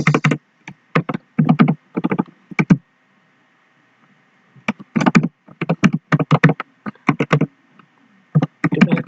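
Close, crisp typing on a computer keyboard comes in quick bursts of clattering keystrokes separated by short pauses.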